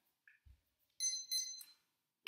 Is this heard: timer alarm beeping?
yes